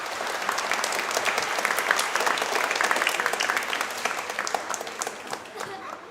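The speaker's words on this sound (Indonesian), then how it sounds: "Bapak Ibu, mari kita beri aplaus untuk mereka." A church congregation applauds the choir after a Sunday Easter Mass, giving sustained, steady clapping from many hands that fills the room and slowly fades out at the end.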